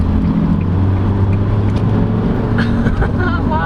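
A loud, droning engine of a 2022 Mazda BT-50 3.0L pickup with automatic transmission hums steadily with low tonal bands, heard from inside while accelerating hard at speed on a highway; no clear talk.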